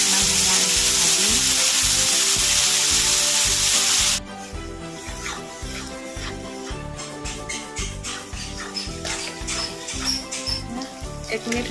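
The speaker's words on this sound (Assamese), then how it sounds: "1 মিনিটমান সময় ভাজিম" Masala paste and cumin seeds fry in hot oil for a fish curry. A loud, hissing sizzle drops suddenly after about four seconds into a softer crackling fry, with steady rhythmic scraping of stirring throughout.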